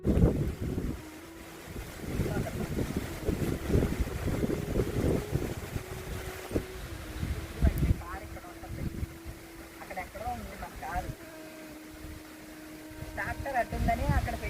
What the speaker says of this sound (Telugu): నా మాట వినిపిస్తుందో లేదో కూడా నాకు తెలియట్లేదు అనమాట, అంత గాలి వేస్తుంది.